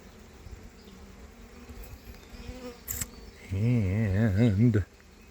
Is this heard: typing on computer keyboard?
no